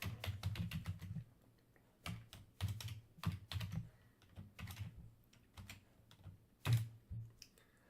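Code typed on a computer keyboard in a Visual Studio session: close, uneven bursts of clicky keystrokes with short pauses between runs, with no talking over them.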